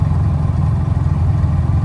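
A portable electric-start generator engine runs steadily at close range, a loud, even idle with a low rumbling drone throughout.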